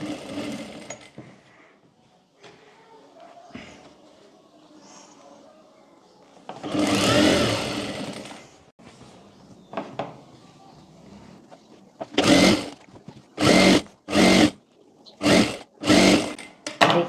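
A sewing machine stitches a seam on a baby girl's cargo trousers, first as a long steady run, then as a series of six short loud bursts with brief pauses between them.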